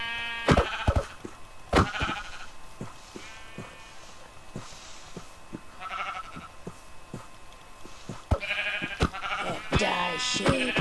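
Sheep bleating in the video game Minecraft, several short bleats scattered across the clip alongside soft game clicks and hits, with a few clustered calls near the end.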